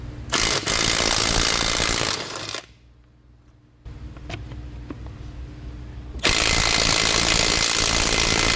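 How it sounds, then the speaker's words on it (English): A battery-powered Bauer impact tool hammers lug nuts loose on a vehicle wheel, two loud sustained rattling bursts close by separated by a quieter pause, with no talking. "it's plenty enough power to bust those lug nuts off of there"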